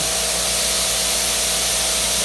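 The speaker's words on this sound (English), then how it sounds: "Let me get this to spray." A steady, loud hiss of water spraying from a Zipper pressure washer wand, continuous and unchanging, with a faint low motor drone underneath.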